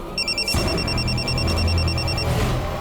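An electronic phone ring repeats in short even bursts for a couple of seconds, with a low rumble and muffled background noise underneath.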